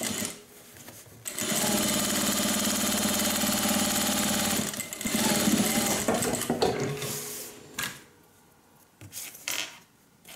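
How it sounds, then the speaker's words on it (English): A sewing machine runs a straight seam close to the edge of a hippie van wristlet in one continuous, steady whirring burst lasting a few seconds, then stops and gives way to quieter handling clatter. "I'm just going to sew straight down that line"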